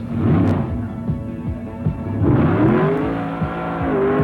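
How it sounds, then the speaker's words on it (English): Ford Thunderbird drag race car warming up its tires, the engine roaring and revving hard with rising pitch sweeps and tire noise, loud and close with no talk. "Bob warms up his tires and gets ready to race"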